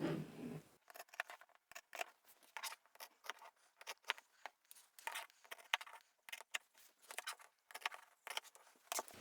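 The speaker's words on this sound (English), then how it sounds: "I'll cut all the layers out." Scissors snip through stacked fabric layers for a small sewn pouch, with a steady run of quiet, close, crisp cuts in an irregular rhythm and no voices.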